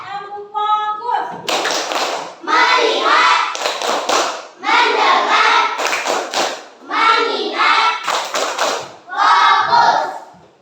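A class of children doing a rhythmic focus clap, with loud unison bursts of clapping and thumps in repeated patterns alternating with children's chanting voices.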